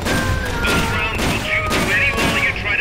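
Rapid gunfire in the co-op video game Metal Gear Solid Peace Walker during a boss fight, dense continuous bursts of shots and booms layered with game effects.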